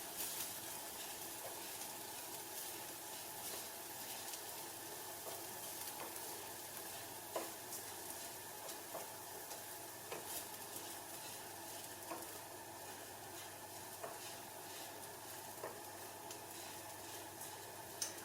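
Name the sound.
stirring ingredients sizzling in pan for Lebanese lentil soup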